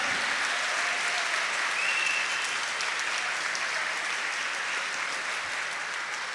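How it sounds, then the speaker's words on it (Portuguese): Steady, dense applause from a church congregation during a Sunday Mass homily, sustained at an even level throughout with no pauses. "Brada uma salva de palmas para o senhorio dele."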